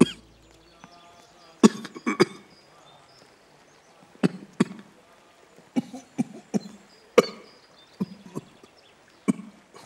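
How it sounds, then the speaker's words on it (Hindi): A woman's old, persistent cough, heard as repeated sharp, close coughing bursts in irregular clusters, some in quick pairs and triplets, with quiet gaps between them. "ये खांसी बहुत पुरानी है ना?"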